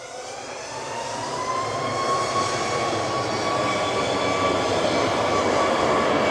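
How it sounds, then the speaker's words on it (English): A Ryanair Boeing 737 MAX 8200 departs Manchester Airport with a steady jet engine roar that grows louder and fills the air, joined by a gliding high whine. "Next for departure, right in front of us here is Ryanair to Alicante, IHA, with flight 9073. This is a 737 MAX 8200."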